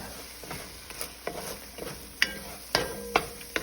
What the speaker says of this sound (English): Alright, let's saute it a bit